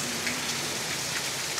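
Steady, dense rainfall during a thunderstorm at Repulse Bay, Hong Kong, hisses evenly over a short stretch, a continuous wash of drops on surfaces with no voices.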